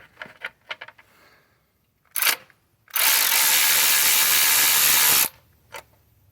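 Ratchet or power driver working bolts on the turbo oil supply line of a 2011 Chevy Cruze, a few light clicks and a short burst, then a loud continuous buzzing run of about two seconds, close up.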